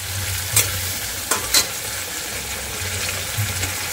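Tomato frying in oil for a chicken kosha curry, a steady sizzle with a few sharp clicks of stirring against the pan, no voices.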